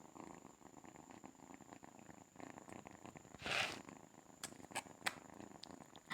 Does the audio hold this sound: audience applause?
no